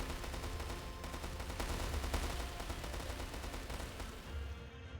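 Bombardment in a strategy video game: a dense, continuous barrage of overlapping explosive booms and rapid blasts, loud and steady throughout with no talking.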